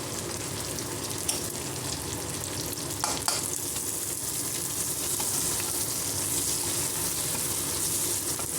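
Curry leaves and turmeric hit hot oil for an okra fry, giving a loud, dense, continuous sizzle that fills the whole stretch, with a couple of sharp pops and crackles and no talking.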